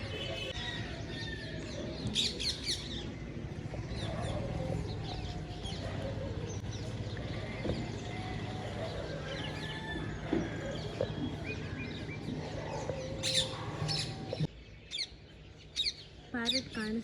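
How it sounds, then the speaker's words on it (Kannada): Birds chirp in a village setting, scattered short tweets and calls coming and going over a soft outdoor background, with a person talking throughout. "ಸೊ ನಿಮ್ಗೆ ಕೇಳಿಸ್ತಾ ಇರ್ಬೋದು ಬ್ಯಾಕ್ಗ್ರೌಂಡ್ ವಾಯ್ಸಲ್ಲಿ ಬರ್ಡ್ಸ್ ಸೌಂಡ್ ಆಗಿರ್ಬೋದು"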